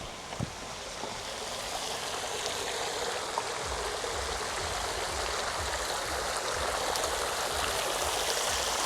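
A small waterfall feature beside a pool gives a steady, full rush of falling water that stays even and close throughout.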